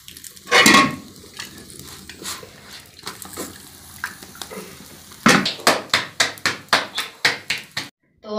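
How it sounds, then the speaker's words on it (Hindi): Pots, pans and dishes clatter while being gathered up for washing on a cold village morning, a loud clang near the start, then a close run of sharp rhythmic metallic knocks toward the end. "बर्तन भी मैंने सारे ये इकट्ठे करके ना उनको भी धोते हैं"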